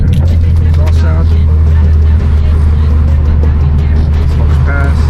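Steady low exhaust drone from an economy car driven with the windows open, constant and close, with road and wind noise over it and a person talking along with it.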